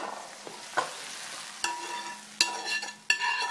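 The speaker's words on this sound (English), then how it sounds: "Now I'm going to deglaze this with a little bit of balsamic vinegar." A pan deglazed with balsamic vinegar, sizzling at a modest level with several sharp clatters and scraping strokes as the contents are stirred.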